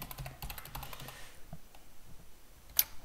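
An email address typed on a computer keyboard, a quick close run of soft key clicks that slows and fades after about a second, followed by a single sharper click.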